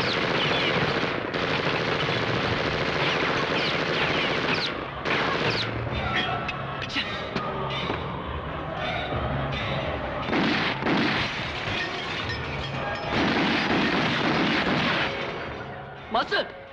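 Guns blaze in a film shootout beside a truck: dense, continuous bursts of loud gunfire and heavy booms pound almost without pause, with shouting voices mixed into the din.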